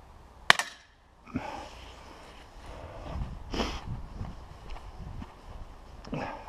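A Beeman P17 air pistol fires a pellet at a target indoors, a single sharp snap followed by a few softer knocks and handling clatter, with a quiet room hum behind.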